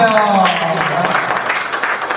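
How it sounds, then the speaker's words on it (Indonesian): A crowd at a launch event claps steadily in a dense, continuous burst of applause, with a voice speaking over it near the start. "Tepuk tangan, Pak."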